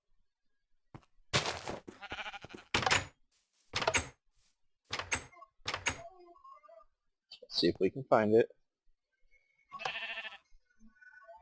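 A sheep in the video game Minecraft, modded with Tekkit, gives a short bleat after a run of clicking game sounds, with someone talking to it before and after.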